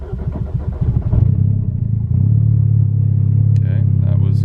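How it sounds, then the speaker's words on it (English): An MK6 Golf R with a big turbo and a P0016 fault starts up after a rough, uneven moment, then settles into a steady, close idle hum. "I'm just gonna start up the car again while logging and see if it comes back."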